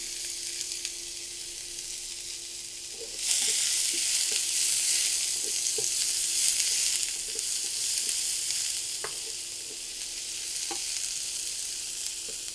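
Two onions frying in about a spoonful of oil give a steady, close hiss that swells suddenly a few seconds in and then holds, with light scattered ticks and pops and no talking.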